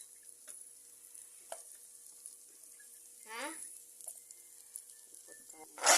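Bean sprouts and carrots fry in butter in a pan, a faint steady sizzling hiss with occasional soft scrapes and taps of a utensil stirring, and a brief louder clatter at the end.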